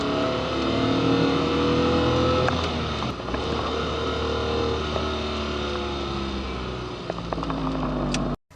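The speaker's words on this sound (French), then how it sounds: "Le fameux V6 Busso, conçu par l'ingénieur éponyme" An Alfa Romeo 90 with the 2.5-litre Busso V6 engine, a loud, steady engine drone with shifting pitch heard from close by, as if from inside the car while it drives, ending abruptly.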